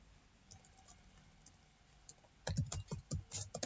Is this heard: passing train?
no